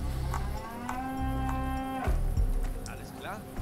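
A bull bellows in a long, low, drawn-out moo in Desperados III while being ridden, loud and close, followed by shorter grunts and scattered game sounds.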